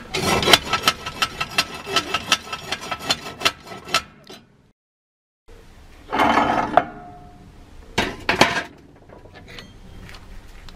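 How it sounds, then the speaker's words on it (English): A narrowboat's solid-fuel stove grate being riddled: rapid rattling, scraping metal strokes in a dense burst, a pause of silence, then shorter bursts of shaking and clattering close by. "This is called riddling the grate."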